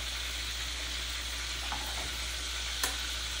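Battered fish fries in hot oil in a pan, a quiet, steady sizzle with a couple of faint clinks near the end and no talking.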